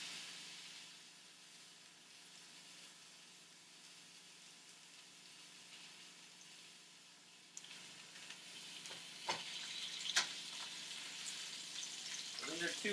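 Pieces of salmon searing in a medium-sized pan give a steady hiss and sizzle throughout, growing louder and crackling near the end, with soft kitchen handling noises.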